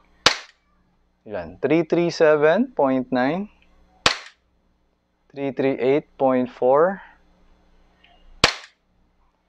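An airsoft pistol fires three single semi-auto shots through a chronograph, each a sharp, loud, isolated crack several seconds apart, with someone talking between the shots.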